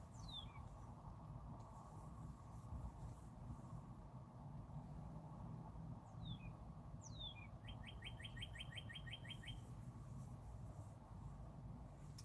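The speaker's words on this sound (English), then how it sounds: "Can you guys hear the birds?" A few sharp bird chirps ring out over a steady outdoor hiss, followed by a quick rapid trill from a nearby bird.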